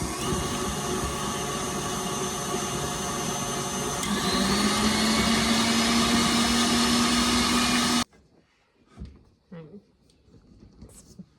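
A food processor whips butter for gingerbread butter, giving a loud, steady motor whine with a rising pitch that runs unbroken for about eight seconds, then cuts off, leaving quiet clatter and handling sounds.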